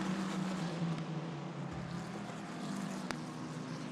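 Formula 4 race cars at speed on the Mugello circuit in the Italian F4 Championship, a steady engine drone with a brief pitch shift partway through, heard from a trackside distance with no talk.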